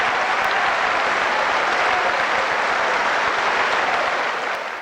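A large snooker crowd at the Hofmeister World Doubles gives loud, steady, dense applause that fills the hall without a break and fades slightly at the end.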